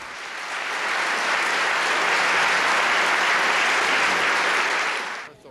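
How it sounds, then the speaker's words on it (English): Lawmakers applaud a president's speech in a 1982 chamber, a steady, dense wave of clapping that swells in, holds loudly for several seconds, then cuts off abruptly. "They applauded him again when he talked about eliminating the inheritance tax."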